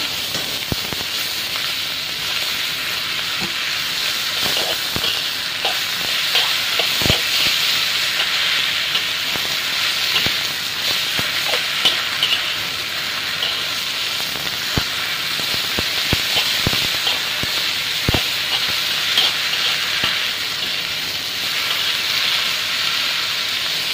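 Steady loud hiss and sizzle of vegetables dropped into a hot pan with browned garlic over high heat, continuous frying noise with scattered sharp crackles and pops.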